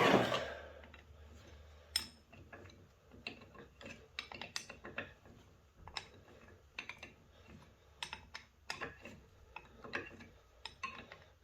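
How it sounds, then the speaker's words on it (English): Box wrenches work against stubborn square-headed bolts during the teardown of a 25 lb Jardine/Canadian Giant, a string of sharp metallic clicks, clanks and scrapes at irregular intervals, close and fairly quiet. "these box wrenches don't like these square-headed bolts too much"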